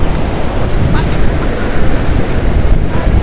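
Loud, continuous surf crashes and churns at Rock Beach, the sea surging far up the shore, with wind roaring across the microphone close by.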